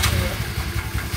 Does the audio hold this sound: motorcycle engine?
yes